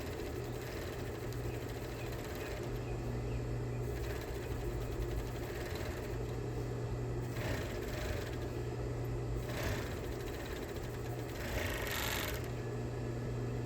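A sewing machine runs in a steady whirring hum while stitching around the curve of a skirt pocket, with short surges in speed between brief easings as the fabric is turned.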